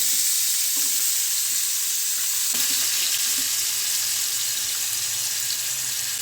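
Potatoes hit hot oil in a pan already holding cumin and asafoetida, setting off a loud, continuous frying sizzle with a couple of faint knocks at the start.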